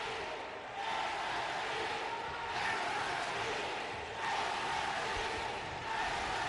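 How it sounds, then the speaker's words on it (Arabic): A basketball arena crowd chants in steady waves, a broad roar rising and falling in regular pulses, distant and even with no single voices standing out. "بدأ الجمهور يهتف"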